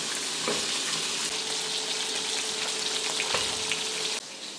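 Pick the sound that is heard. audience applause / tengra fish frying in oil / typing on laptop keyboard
tengra fish frying in oil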